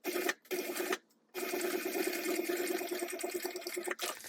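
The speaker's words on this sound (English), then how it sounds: "this time I'm sewing at 3/8 inch seam allowance" A home sewing machine runs steadily, stitching backpack fabric pieces at a 3/8 inch seam allowance, with a brief stop and restart before continuing in a continuous whirring hum.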